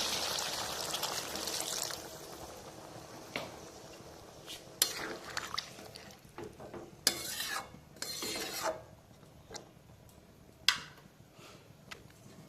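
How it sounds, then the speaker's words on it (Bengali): Water poured into a pan of fish curry with potatoes, an opening gush of rushing liquid that fades into sizzling, followed by a run of metal spoon clinks and scrapes against the pan. "এখানে দিয়ে দেবো পরিমাণ মতো জল"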